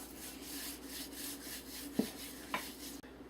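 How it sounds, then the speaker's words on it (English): Seasoning is rubbed into meat by hand, a soft continuous rubbing and scraping with a couple of faint knocks, quiet and close with no talking. "We want to sprinkle this very liberally with salt and pepper. And just rub it in."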